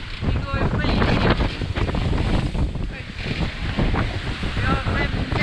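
Strong wind of about 16 to 18 at sea buffets the microphone in a constant roar, with rushing water and waves around a sailboat; faint voices are partly buried underneath.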